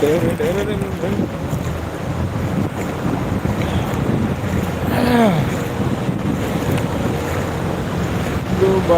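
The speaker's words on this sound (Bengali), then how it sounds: "আবুধাবির মুসাফা ও পানির ঢেউ" Floodwater waves on a flooded street in Musaffah, Abu Dhabi, sloshing steadily under heavy wind buffeting on the microphone, with a brief passing vehicle hum and a short shout in the middle.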